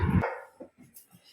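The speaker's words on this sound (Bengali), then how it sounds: "স্যাম চিল্লাচ্ছে" A pet dog gives one sharp, close bark followed by a few fainter yips and whimpers, all within about a second.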